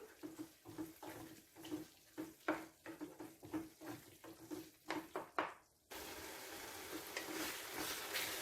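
Pumpkin and plantain erissery being stirred in a pot, soft scraping and wet sloshing strokes in a steady rhythm, close and quiet, giving way to a steady hiss near the end.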